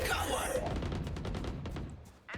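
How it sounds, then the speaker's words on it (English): Rapid video game gunfire shooting out a Sage ice wall in Valorant-style tactical play, a dense burst of close shots dominating the clip with a brief break near the end. "Shooting out the sage wall."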